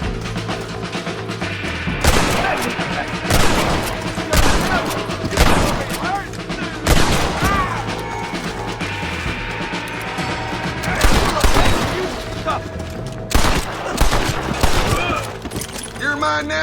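Repeated bursts of gunfire and scattered single shots from a Red Dead Redemption shootout, loud and sharp, with crashing and shattering impacts mixed into a busy game soundscape.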